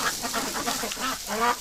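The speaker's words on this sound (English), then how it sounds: "Oh, the ducks coming to check me out here." Several ducks give soft, scattered quacks and calls at close range outdoors on a windy winter day, with breezy background noise and no talking.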